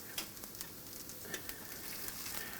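Soft shell crab fries in a pan with a faint, steady sizzle and scattered small crackles throughout. No one speaks.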